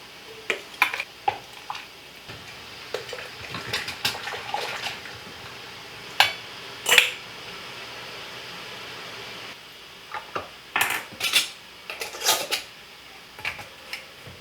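Glass canning jars of salsa clink and knock as they are placed into a water bath, scattered bursts of clatter and splashing against a quiet hiss, with pauses between.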